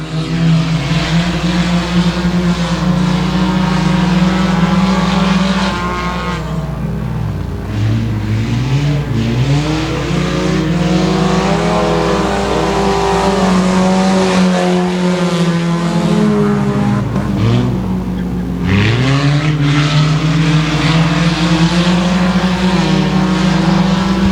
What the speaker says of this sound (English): 15-year-old youngster David Vosbury leading Bing McDuff off into turns 1 and 2 for the first time here tonight